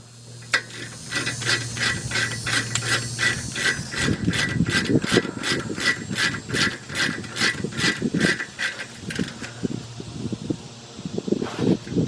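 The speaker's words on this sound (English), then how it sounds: "let's get our ratchet. Tighten them up" A hand ratchet tightening the rear brake caliper bracket bolts on a 2001 Jeep Grand Cherokee Laredo, a long run of rapid, close metallic clicks in steady strokes, with brief pauses and shifts in between.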